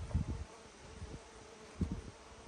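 Wasps fly around an outdoor forest cooking spot, making faint, intermittent buzzing passes in short bursts against quiet woodland air.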